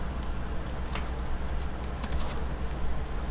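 Rapid clicking of keys on a computer keyboard, steady and close, over a low background hum.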